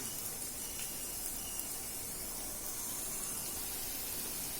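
Onions sizzle as they are sautéed in a pan, a steady broadband hiss, even and unbroken, moderately quiet and heard alone without talk.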